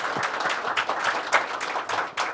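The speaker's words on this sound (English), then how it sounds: "Can we give him a round of applause?" An audience at a book event applauds, a dense, steady patter of many hands clapping at moderate volume for a couple of seconds.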